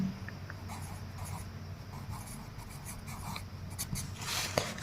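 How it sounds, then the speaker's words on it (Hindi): A pen writing figures on paper while plotting land measurements on a map, quiet close scratching strokes over a faint background hum. "तो यहाँ पर भी हम लिख देते हैं 60 कड़ी"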